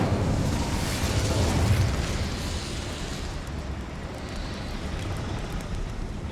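A fire spell cast in Hogwarts Legacy, a steady loud roaring whoosh of flame with a dense crackling rumble that holds, then eases slightly and sustains.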